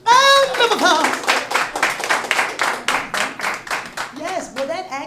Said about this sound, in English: Oh, round of applause. Round of applause.